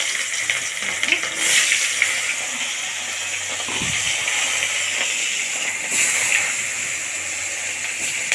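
Food fries in a covered pan on a home stove, giving a steady hiss and sizzle that swells briefly at moments, with a faint thud partway through.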